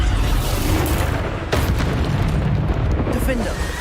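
Booming spell explosions go off in a fantasy action game during hard-mode combat, loud and dense, overlapping with shouted voices and battle noise.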